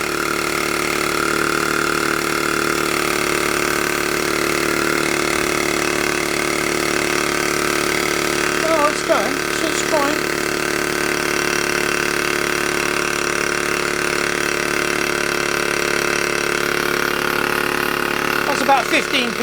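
A small vintage American Weeden model steam engine runs at 15 psi with a steady, continuous mechanical hum and faint rhythmic chuffing, while voices chat nearby.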